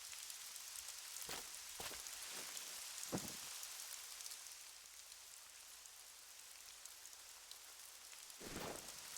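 Steady rainfall in theHunter: Call of the Wild, a constant soft hiss on surfaces with a few low rumbling swells of distant thunder, no voices.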